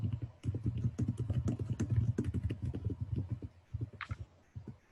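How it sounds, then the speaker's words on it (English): Rapid keystrokes clatter on a keyboard in quick, uneven bursts, fairly close, pausing briefly before a few final taps. "I'm hearing typing."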